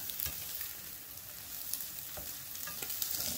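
Food frying in a non-stick frying pan, a steady close hiss and crackle of sizzling oil with a few sharper pops and spatters throughout.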